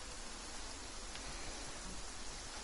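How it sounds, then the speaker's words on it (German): Steady rain hisses as an even, continuous wash of broadband noise throughout a Genshin Impact game scene, with no voices and no breaks. "Warum regnet es schon wieder?"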